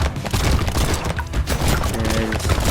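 Rapid overlapping shotgun blasts from the top-down arena shooter Brotato, a dense, loud barrage of booming gunfire with crashing impacts that keeps going with no pause.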